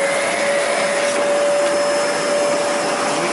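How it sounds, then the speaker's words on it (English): A 2019 Zero G floating vacuum cleaner runs continuously at close range, a loud steady motor whine with a fixed high tone and broad airflow hiss, no voices over it. "So let's go ahead and vacuum with it and see how it does."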